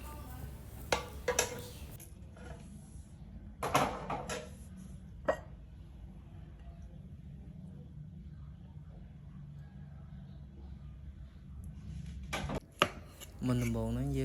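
Beef is sliced thinly for beef lok lak, with a few sparse, sharp knife strikes against a cutting board, spaced far apart over a low, quiet background rumble.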